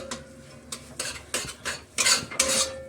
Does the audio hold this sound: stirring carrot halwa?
yes